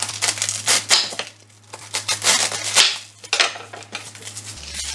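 A kitchen knife slices cabbage on a cutting board for a spring mustard-green salad, giving a string of quick, crisp chopping taps with short pauses, close and fairly loud, with no talk.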